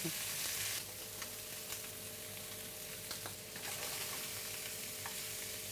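Scallops searing in foaming butter in a hot pan give a steady, close sizzle and frying crackle that runs throughout, with small pops and stirring sounds.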